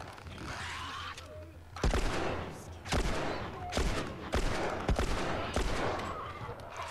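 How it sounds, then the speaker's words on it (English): Gunfire in the video game The Last of Us, with repeated loud bursts of shots in rapid groups over several seconds. "Just gonna keep shooting to keep them off her."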